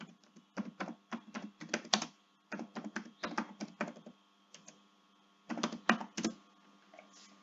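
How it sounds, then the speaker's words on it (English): Typing on a computer keyboard: quick bursts of crisp key clicks separated by short pauses, close and clear with no talking. "So I'll type Reliance Industries out here."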